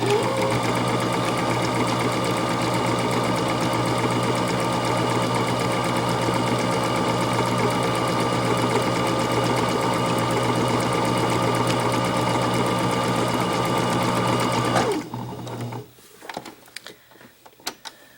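Sewing machine runs steadily, stitching elastic onto a fabric face mask in a continuous close whir that stops near fifteen seconds, followed by faint handling clicks.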